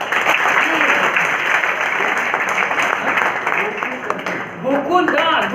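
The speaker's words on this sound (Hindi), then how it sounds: "जोरदार ताली" Loud, sustained applause from a television show's studio audience fills the whole stretch, with voices talking over the clapping.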